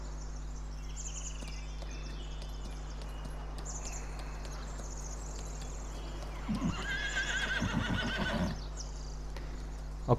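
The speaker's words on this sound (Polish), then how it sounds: "czyli mamy różne rodzaje poruszania się konia" In the Farming Simulator 2019 video game, hooves clip-clop steadily against a constant low hum and faint insect and bird ambience. Near the end a horse gives a loud, close neigh.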